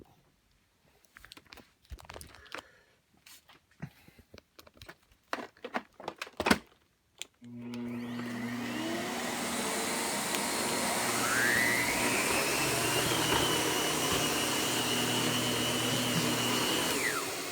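A Miele upright vacuum cleaner starts partway through after several seconds of scattered clicks and handling knocks, then runs loud and steady with a constant motor drone and a brief pitch sweep as it gets going.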